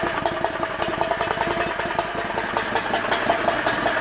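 A 670 cc four-seat go-kart dune buggy engine idles on a cold day, a steady, close, mid-pitched rumble with a regular chugging pulse and no voices.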